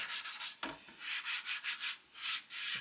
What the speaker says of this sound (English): I should be able to just sand it, and as you can see, it's smoothing it out.